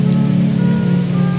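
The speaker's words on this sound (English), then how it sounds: "The rain is nice" Rain falling, heard as a loud, close and steady wash of hiss with a strong low rumble running through the whole moment, with no voices.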